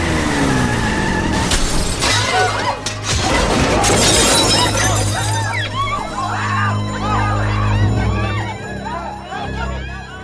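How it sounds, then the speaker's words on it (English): A car smashes through a shop window in a dramatised audio scene: a loud burst of shattering glass and crashing debris, tyres squealing and skidding, then scattered tinkling fragments and crowd commotion as the noise settles. "The car knocked her clean through the window and halfway across the chocolatier department."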